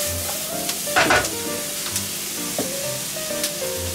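Onions and mushrooms stir-frying in a pan for a three-cheese mushroom gratin, giving a steady close sizzle broken by a loud scraping stir near the start and lighter spatula knocks after it.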